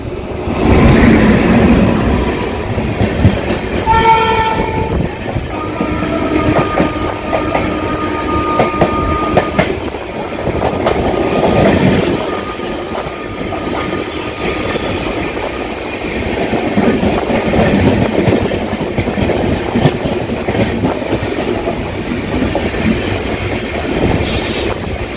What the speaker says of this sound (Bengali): দেখুন কাঞ্চনজঙ্ঘা আর কাঞ্চনকন্যা এক্সপ্রেসের ক্রসিং হচ্ছে দক্ষিণেশ্বরের ব্রিজের ঠিক